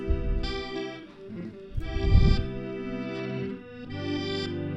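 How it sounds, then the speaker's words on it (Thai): Electric guitar loop played back through the reverse effect of a Line 6 Firehawk FX looper, giving swelling, backward-sounding chords with soft attacks and smeared, distorted tones that rise and fade over a few seconds, alone and with no voices. "ถ้าเรากดค้างเนี่ยมันจะเข้าเอฟเฟกต์รีเวิร์ส"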